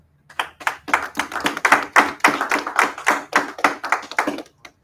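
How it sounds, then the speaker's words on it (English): A church congregation claps in a steady rhythmic beat at a Sunday scripture service, sharp distinct hand claps repeating about three per second, close and loud, with no talking over them. "Clap it up"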